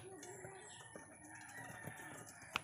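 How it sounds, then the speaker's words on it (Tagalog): Five-day-old ducklings peeping softly in their brooder, a faint chorus of high chirps over low background hum, with a louder peep at the end and no talk. "masisigla na po ang ating mga sisiw na itik oh"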